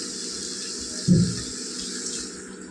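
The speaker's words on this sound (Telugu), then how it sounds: "1 గ్లాసున్నర నీళ్ళు వేసాను నేను" Water poured into a potato and capsicum curry in a pan, a short splashing pour over a steady background hum.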